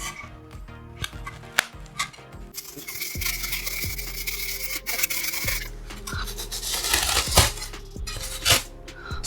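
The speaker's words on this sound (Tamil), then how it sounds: "ஸோ அந்த பிளேடை வச்சு கட் பண்ணி எடுக்கிறேன்." Blade cutting a marked round shape out of material for a homemade air cooler, giving close, uneven scraping and rasping strokes with scattered clicks and taps.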